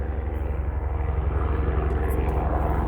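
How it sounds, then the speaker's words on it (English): A steady, droning aircraft engine hum sits constant and moderately loud overhead, with a regular low pulsing from rotor or propeller beats and no speech. "here comes a helicopter."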